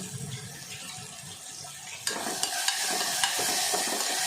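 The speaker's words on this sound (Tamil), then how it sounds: "அது மட்டும் நல்லா வதக்கிட்டு இஞ்சி பூண்டு பச்சை வாசனை போக வர வதக்கலாம்" Ginger and garlic sauté in a pan with salt, a soft hiss that brightens into a stronger sizzle partway through, marked by a few light scraping clicks.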